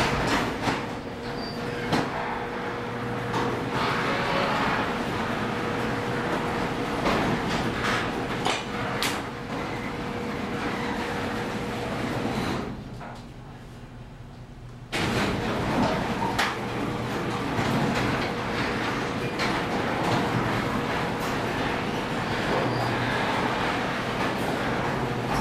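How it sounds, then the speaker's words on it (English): A Magic Wand garage door, a wand-like panel on the inside that opens like a garage door, gives off a steady mechanical rumble and rattle. It fades briefly partway through, then returns at full strength. "It's a garage door that on the inside is a wand, but it opens like a garage door."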